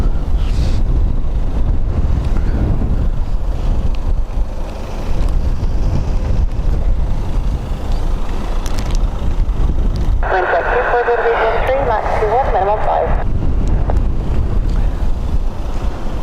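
Wind buffets an outdoor microphone at Dublin Airport during a windy day of plane spotting, a continuous low rumbling roar that never lets up, with a brief tonal warble partway through.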